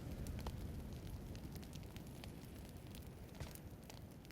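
A steady roaring crackle of fire burning, loud and continuous with faint scattered pops, from an incendiary grenade in PUBG.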